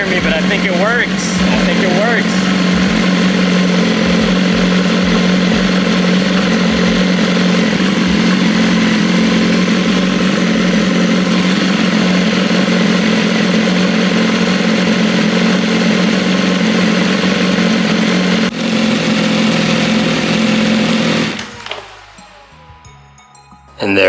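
BMW S1000RR motorcycle with a clear clutch cover idles loudly and steadily nearby, its low, even rumble holding for about twenty seconds before the engine shuts off into near silence, with a voice speaking over it.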